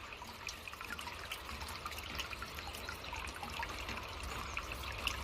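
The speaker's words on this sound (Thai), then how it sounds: "น้ำไหลตกตกเลยค่ะ" Rainwater trickles and drips steadily into a collecting container outdoors in the countryside, a soft continuous close-up splashing with fine droplet patter and no voices.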